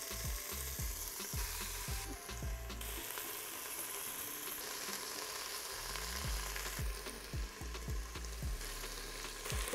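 Meat sears in hot oil inside a multi-cooker pot, a steady close sizzle and crackle with intermittent scraping and stirring clicks, no talking.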